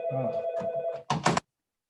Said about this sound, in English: of course my phone would ring right now